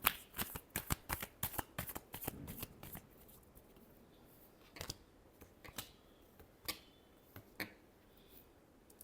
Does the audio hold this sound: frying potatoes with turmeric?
no